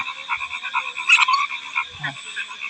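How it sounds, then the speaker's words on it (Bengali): Frog croaking at night on a farm, a steady run of rapid, rattling croaks repeating close by with a louder burst midway, no other voices. "এই যে ব্যাং সাহেব, এই কুড়ু কুড়ু কুড়ু কুড়ু কুড়ু কুড়ু কুড়ু করে ডাকতেছে"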